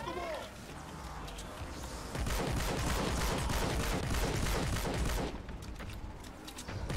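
Hydra assault rifle fire in Fortnite Save the World, a dense, loud burst of rapid gunshots sustained for several seconds, with quieter game sounds before and after.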